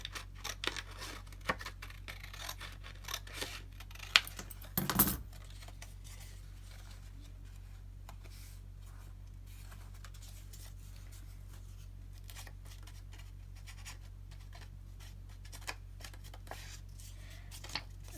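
Scissors snip through paper at a craft table, a few soft, close cuts and rustles, one brief louder crunch, then mostly quiet with faint handling noises over a low steady hum.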